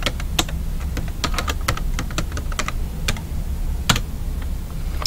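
Login credentials typed on a computer keyboard make quick, uneven clicking keystrokes, close and steady over a low background hum, with no voice.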